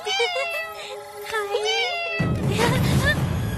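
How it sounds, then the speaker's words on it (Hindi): A cat gives a few drawn-out wavering meows up close, then a burst of broadband noise takes over the second half. "दूसरी बिल्ली।"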